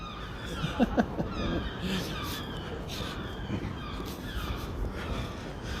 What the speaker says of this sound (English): That's a romantic sound, just seagulls squawking away.